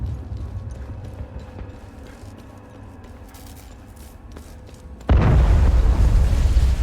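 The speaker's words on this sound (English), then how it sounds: "relax with the bombs" Bomb explosion in the video game Hell Is Us: after several seconds of quiet ambient rumble, a sudden loud blast hits and swells into a heavy, sustained roar.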